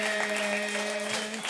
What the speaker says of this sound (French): Voulez-vous applaudir les Chevaliers du Fiel, s'il vous plaît, messieurs, dames?